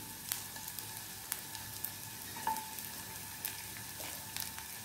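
Chopped onions frying in oil for a mayo paneer roll, a steady soft sizzle with a few light scrapes and taps of a spatula, close and fairly quiet, no voices.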